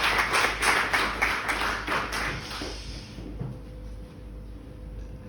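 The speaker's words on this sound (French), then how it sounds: "vous pouvez vous applaudir" Applause at a wind farm inauguration ceremony, a burst of close, percussive claps over low wind-like rumble that fades out after about three seconds, leaving quiet background noise.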